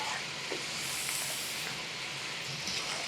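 Chana dal frying over low heat in reused oil in a pan, giving a steady, even sizzle and hiss that runs close and continuous from start to finish, with no voices.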